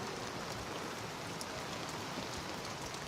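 Steady rain pours down around a convertible lorry, a dense, even hiss of drops filling the whole stretch with no talk over it.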